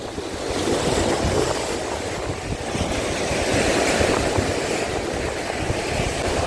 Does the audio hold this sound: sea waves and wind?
yes